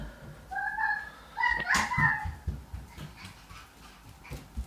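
A dog whines and yelps in a few short high-pitched cries, close by, with a light patter of background noise.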